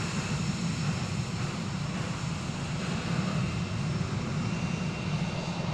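An American Airlines jet takes off from runway 36 right at DFW Airport, its engines a steady, loud broadband roar held throughout with no voices.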